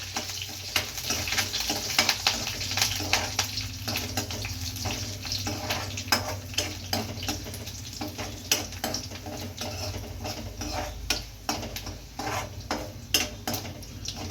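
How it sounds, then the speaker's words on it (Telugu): Dried prawns and curry leaves crackle in a hot oil tempering, a continuous sizzle broken by frequent clinks and scrapes of a spoon stirring in the pan, close and without talk. "ఎండు రొయ్యలు కూడా వేసుకొచ్చారండి తర్వాత లాస్ట్గా కరివేపాకు"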